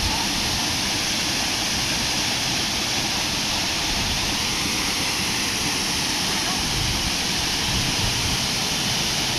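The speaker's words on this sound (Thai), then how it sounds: "อายเย็นของน้ำตก" A waterfall at Tat Nok Insi in Laos roars with a loud, constant broadband rush of falling water that fills the scene, steady throughout with no breaks.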